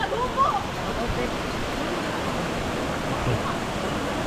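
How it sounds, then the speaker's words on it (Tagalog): Steady, close rush of water as Mantayupan Falls overflows in Cebu, a dense unbroken roar that holds level throughout, with faint voices beneath it. "Yung overflow ng falls."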